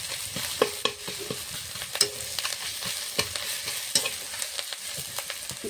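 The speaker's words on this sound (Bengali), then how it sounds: "পেঁয়াজ, রসুন, লঙ্কাটা একসঙ্গে দিয়ে দিয়েছি। এখন ভালো করে ভেজে নেবো" Onion, garlic and chili fry hard in hot oil for a fish curry, a close, continuous sizzle punctuated by frequent sharp scrapes and knocks of a spoon stirring in the pan, with no voices.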